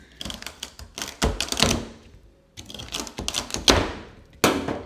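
A knife chops celery sticks into thirds on a cutting board, a series of crisp irregular knocks and crunchy cuts in small clusters with a brief pause midway, close and fairly quiet.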